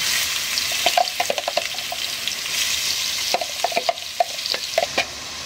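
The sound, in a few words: chopped onion and green chili frying in a pan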